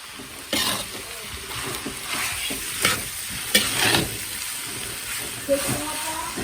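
Scallion leaves stir-fried in a pan, a steady sizzle and hiss broken by scraping stirs and a few sharp clatters of the utensil, close and continuous, with a voice briefly speaking underneath.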